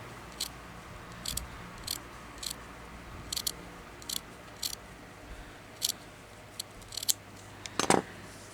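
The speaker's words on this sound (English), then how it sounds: "I'm going to cut it a lot longer than this piece" Scissors cut fabric pieces for a crazy patchwork blanket, a steady run of crisp, close snips spaced about half a second apart, ending in a louder snip, with no voices.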